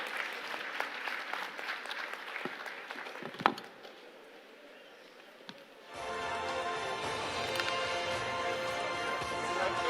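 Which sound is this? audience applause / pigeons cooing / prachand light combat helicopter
audience applause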